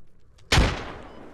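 A grenade explodes in the Operation: Rawhide video game: after near silence, a single sharp, loud blast hits and fades into a rumbling tail over about a second.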